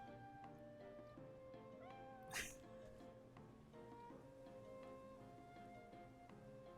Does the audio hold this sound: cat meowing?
yes